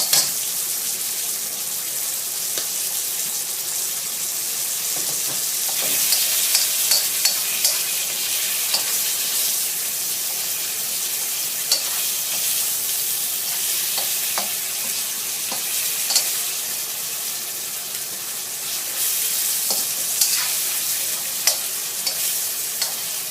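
Catfish bones are stir-fried in a pan, producing a continuous bright sizzle with frequent scraping stirs and occasional pops, steady and close for a long stretch.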